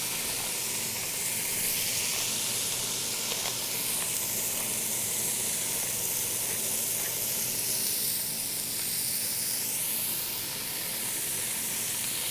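Vegetables seasoned with salt and pepper sizzle and hiss steadily in a hot pan as they brown, a constant bright frying sound with occasional small pops and no voices.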